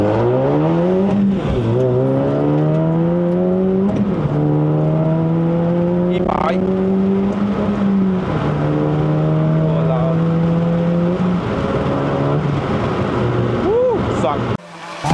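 A Suzuki Swift Sport ZC33S with a six-speed manual, 1.5-way LSD and stock clutch pulls hard up a mountain road, its engine and exhaust rising through revs, with repeated gear-change dips, while a driver talks over it.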